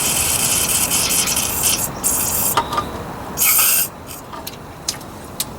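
A steady hissing spray of cleaner into a Chevy 235 straight-six engine that has long sat unused, with rubbing and scraping noises, a louder burst of spray partway through, then intermittent short hisses.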